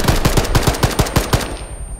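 Automatic gunfire in the ArmA combat game rattles off in a rapid burst of about ten loud, close shots with sharp echoing cracks, then stops abruptly, with no voices.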